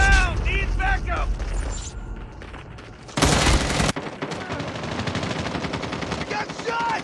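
Gunfire from Call of Duty Mobile rattles in rapid automatic bursts amid a busy match, with a loud blast in the middle and speech over the shooting.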